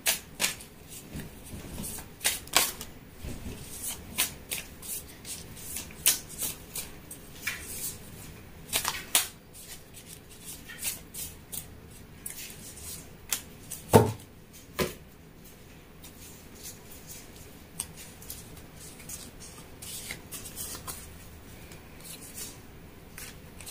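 Tarot cards are shuffled and drawn, giving soft papery riffles, slides and taps in irregular bursts that are quiet and close, with fuller flurries near the start and middle and calmer handling toward the end.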